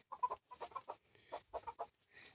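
Mother hen clucking in a chicken-breeding setting, a series of short throaty clucks in quick bursts, close and fairly faint, with no talk.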